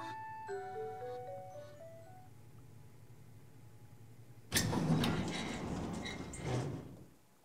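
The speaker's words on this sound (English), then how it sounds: "The storeroom door opens with a rough grating sound" A storeroom door in the video game Shibuya Scramble grinds open with a loud, rough grating scrape lasting about two seconds, coming after a run of soft descending chime tones.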